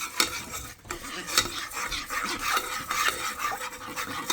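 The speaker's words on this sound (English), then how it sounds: "and then we're just going to stir this up" A spoon stirs Kraft macaroni and cheese in a pot with repeated close scraping and clinking strokes against metal over a faint bubbling sizzle.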